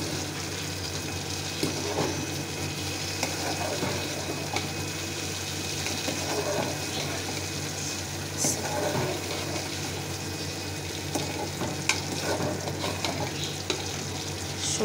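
Dried chillies fry in hot mustard oil for pickle, giving a steady, close crackling sizzle throughout, with occasional stirring scrapes and small pops.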